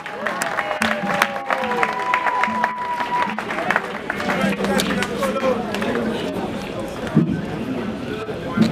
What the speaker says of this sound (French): Nous acclamons pour Jésus-Christ.